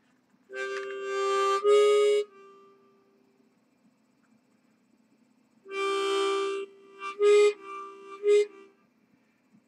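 France 3 TV jingle, short melodic tone bursts that rise in pitch like a bent guitar string, two quick groups separated by silence, clear and alone.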